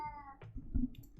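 A house cat lets out a meow, a short tonal call that rises and then fades, followed by a few faint soft rustles and bumps close by.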